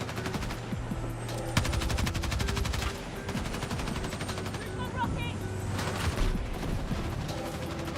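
Video game gunfire from a mounted turret, with rapid sustained automatic bursts and brief pauses, loud and continuous over background game sounds.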